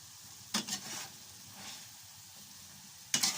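Broccoli turned over in a hot frying pan, with a couple of sharp clattering stirs and a steady soft sizzle running between them; close and fairly quiet, with no talking.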